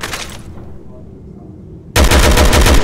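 Semi-automatic sniper rifle firing in Resident Evil 6: loud gunfire at the start, a short quiet gap, then a heavy, sustained burst of shots close up.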